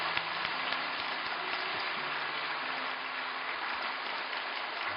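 Congregation applause at an early-morning church prayer service, a steady, even patter of many hands that sounds somewhat distant and muffled, continuing without pause.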